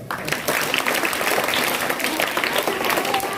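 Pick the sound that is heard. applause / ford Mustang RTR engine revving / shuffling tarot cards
applause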